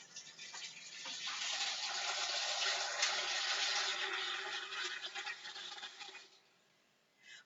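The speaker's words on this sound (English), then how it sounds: "So warm water into our pasta." Warm tap water pours into a pasta saucepan, a steady close gushing fill that swells, holds for several seconds, then cuts off, leaving quiet with a small clunk at the end.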